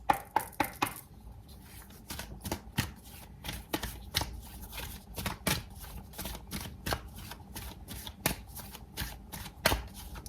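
Tarot cards are shuffled by hand in quick, rapid riffles and snapping flicks that repeat in an uneven rhythm, close and clear with no talking.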